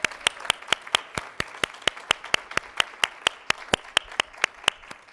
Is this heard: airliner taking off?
no